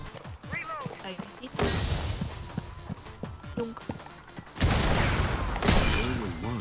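Gunfire rattles in Rainbow Six Siege, with bursts of loud automatic shots, then scattered single shots and footsteps, and heavy firing returning later. Voices talk throughout.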